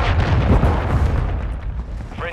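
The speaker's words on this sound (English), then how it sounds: "Friendly cruise missile deployed." A friendly cruise missile strike in Call of Duty: Modern Warfare II lands as a loud, sustained rumbling blast, heavy low booms rolling continuously over about two seconds amid battlefield noise.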